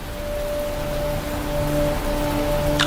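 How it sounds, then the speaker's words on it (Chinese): Heavy rain falls in a steady, even wash of noise, with a low electrical hum running underneath and a brief brighter splash just at the end. "这雨越下越大了"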